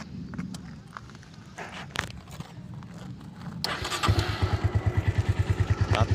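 A Honda Phantom 200 motorcycle engine starts up and settles into a steady, close, loud idle with a rapid regular pulse, after a few seconds of clatter and handling noise.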